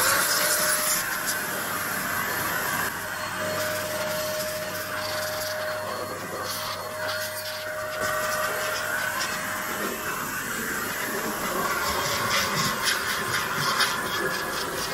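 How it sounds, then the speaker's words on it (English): A DataVac electric blower blasts dust out of a PC case, giving a steady, loud, close whooshing roar with a faint whine that runs unbroken for the whole stretch. "This is a blowing vacuum, I guess you could say, or a blower. And, well, it's specially meant for this purpose. So, let's blow out some dust."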